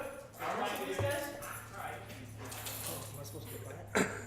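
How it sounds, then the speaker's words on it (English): Dogs give short barks and whimpers at a distance while people talk nearby, ending with one sharper bark-like burst. "the dogs are here"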